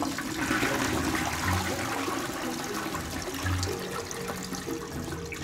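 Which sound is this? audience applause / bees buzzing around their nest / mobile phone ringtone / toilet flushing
toilet flushing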